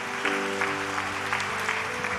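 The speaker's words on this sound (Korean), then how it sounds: "박수 한번 보내주세요" A church congregation at a Korean service claps together, a broad, sustained round of applause with faint tonal instruments or voices sustained underneath.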